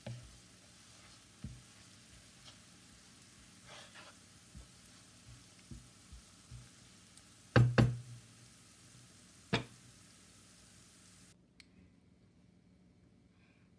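Fish curry in a pan gives a quiet sizzle while a spoon stirs it, with scattered soft knocks and two sharper clanks against the pan near the middle, then the sound stops abruptly.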